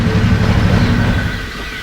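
A train of several engines rolling to a stop, a loud heavy rumbling clatter that gradually eases and thins out, close by with no voices.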